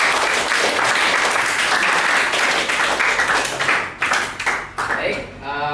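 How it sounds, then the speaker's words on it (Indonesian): Classroom students clapping for a group after a coding and algorithms lesson, loud and dense close-up applause that thins into scattered individual claps toward the end. "tepuk tangan untuk kelompok 3"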